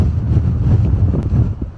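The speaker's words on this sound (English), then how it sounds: "You can't quite look the wind in the face because your face gets sandblasted." Strong southeasterly wind gusts buffet the microphone on the coast at Grand Etang, Nova Scotia, a loud, steady low roar of wind noise with no speech.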